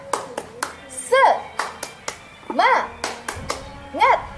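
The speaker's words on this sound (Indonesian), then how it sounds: "Ibu mengajak kalian untuk melakukan tepuk semangat" The rhythmic 'tepuk semangat' clapping at a school event, crisp hand claps in a patterned beat of groups and pauses, with children's voices chanting between the clap bursts.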